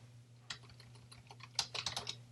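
A folder name being typed on a computer keyboard: a few scattered key clicks followed by a quick burst of taps, close and quiet over a low electrical hum, with no speech.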